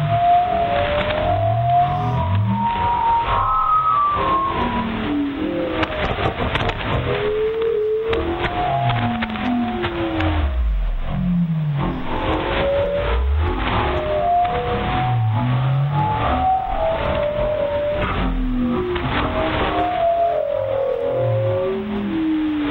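A digitally encrypted shortwave transmission from the Backwards Music Station plays continuously, warbling, reversed-sounding tonal fragments over steady band-limited radio hiss.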